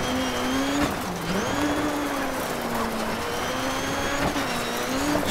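Rally car engine in Dirt 3, a steady loud drone that rises and dips with gear changes, a second engine pitch overlapping as an opponent closes in, no talking.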